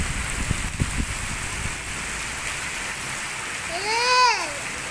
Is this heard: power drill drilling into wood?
no